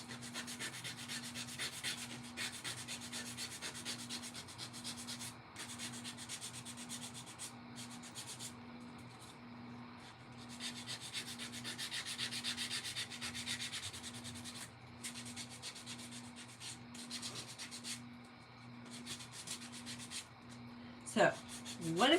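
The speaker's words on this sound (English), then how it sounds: "You love the sound of sanding?" Steady rhythmic scratching of sandpaper rubbing back and forth on wood, close and fairly quiet, with a constant low hum beneath it.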